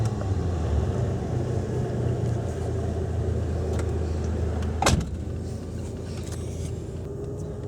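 1985 Ford LTD Crown Victoria on the move, a steady low road and engine rumble heard from inside the cabin, with a sharp knock near the middle and a slightly quieter drone afterward.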